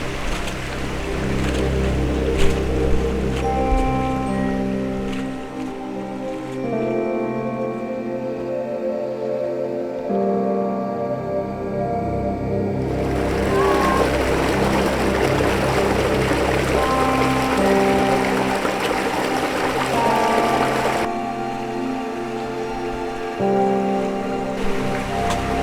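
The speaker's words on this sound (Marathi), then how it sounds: "त्यातून हा पाण्याचा प्रवाह वाहताना दिसतोय मला" A small monsoon stream in a Konkan village flows steadily with a constant watery rush, its level shifting slightly as the listening position moves.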